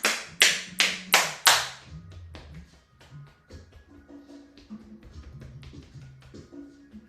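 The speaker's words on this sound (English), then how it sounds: "The hands clapping clears space," Hands clap in a slow run of five sharp, close, loud claps during a Kundalini meditation flow, followed by softer scattered taps and quiet low tones.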